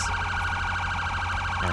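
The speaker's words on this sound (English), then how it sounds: "May I turn off your siren, please?" A police car siren in the GTA 5 LSPDFR mod, set on a Texas highway patrol, wails continuously and loudly in steady rising-falling sweeps with no talk over it.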